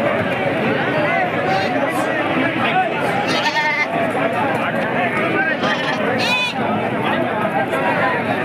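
Young goats bleat repeatedly at a busy Saturday goat market in Akkirampura, their cries rising over a dense, loud crowd murmur and chatter throughout.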